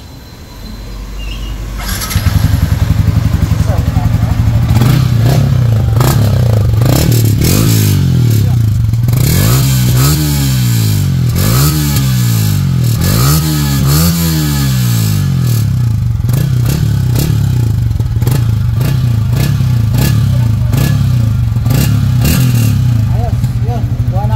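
A Yamaha Sniper 155 motorcycle fitted with a back pressure pipe starts and idles loudly up close, then revs several times in rising and falling bursts before settling back to a steady idle.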